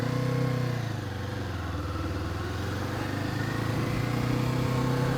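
Royal Enfield Interceptor motorcycle riding through London streets, a steady engine drone heard from the saddle with a throaty low thrum that eases briefly and then builds again, mixed with road and wind noise, continuous and close, no talking.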